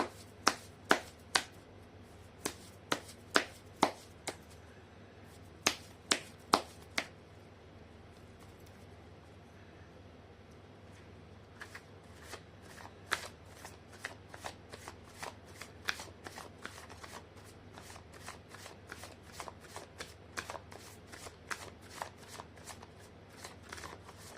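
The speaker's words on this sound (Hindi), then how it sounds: "मैं कर लेती हूँ कार्ड की शफलिंग।" Tarot cards being shuffled by hand, repeated crisp riffling bursts and slaps in uneven clusters, close and quiet against a faint steady hum, no talking.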